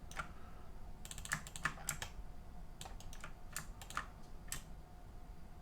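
Computer keyboard typing and key clicks while working in 3D modeling software, scattered close taps in short uneven bursts over a steady low background hum.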